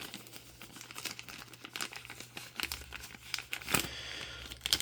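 A small resealable plastic bag being handled and opened, giving close, irregular crinkling and crumpling rustles with a brief tearing-like burst near the end, no talking.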